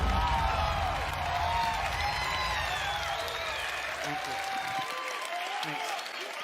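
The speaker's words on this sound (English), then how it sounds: "you clap for the title screen" A large live audience at Bethesda's E3 show applauds and cheers the reveal of the Fallout 76 title screen, a dense sustained roar of clapping with a voice talking over it, fading slightly at the end.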